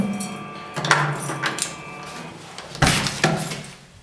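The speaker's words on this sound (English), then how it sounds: "If you put your tag here, it will read it and open the door." An Arduino RFID door lock releases and the door opens, giving a series of mechanical clicks and knocks, then a louder clunk of the door moving, all close by.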